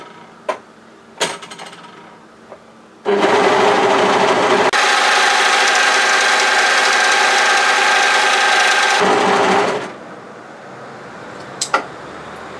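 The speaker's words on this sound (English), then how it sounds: "I'm going to overlock" Overlocker stitching across the hemline of loose-fitting bib overalls, a steady loud mechanical whirr running for about six seconds between quieter handling noises.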